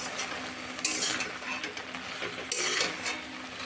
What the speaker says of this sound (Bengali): আমি আর একবার ঢাকাটা খুলে নেড়ে দেব